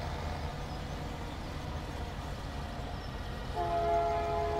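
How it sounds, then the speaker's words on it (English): A train rumbles past a farm field in a heavy, continuous low roar, and near the end its horn sounds loudly in a sustained chord over the rolling noise, with no voices. "Oh, stupid train."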